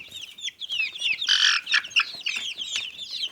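Brahma chicks peep in a dense, busy chorus of high, shrill chirps. The calls overlap and swell loudest near the middle, and they sound close.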